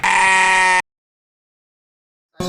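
A loud, close sheep bleat used as a comedy sound effect, followed by silence and the start of a second bleat at the end.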